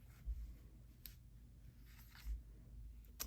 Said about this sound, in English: So we'll just go back to using the scissors